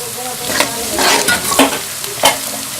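Vegetables, spices and green chillies frying in a pan for vegetable egg rice, loud close sizzling with repeated scraping spatula strokes in an uneven rhythm, no talking over it.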